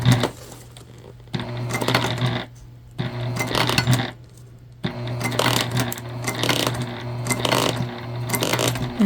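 A sewing machine top-stitching vinyl on a crossbody bag runs in several bursts of fast, steady mechanical clatter and whirring, close and loud, separated by short pauses.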